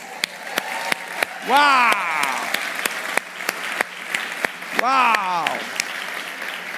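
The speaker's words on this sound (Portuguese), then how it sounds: "Todo mundo na salva de palmas." An audience claps in a steady, close patter at a New Year countdown, joined by two excited vocal whoops that rise above the applause.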